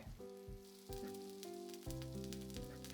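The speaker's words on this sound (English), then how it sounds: "I move the pan to sear them evenly" Gyoza dumplings sear and sizzle in a frying pan, a steady hiss of hot oil running under stepped tones of background music for about three seconds.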